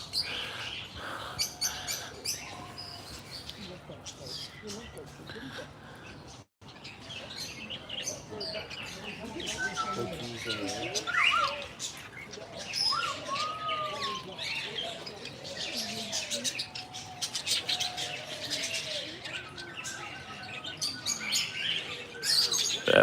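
Exotic birds in Bournemouth, chirping and calling in dense, overlapping bursts nearby, with someone talking intermittently over the birdsong outdoors.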